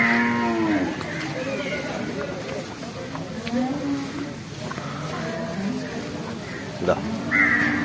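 Several low, drawn-out moos from water buffalo at a livestock market, close by, overlapping with people talking and distant crow calls.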